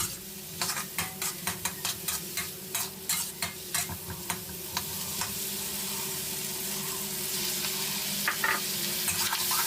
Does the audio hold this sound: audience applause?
no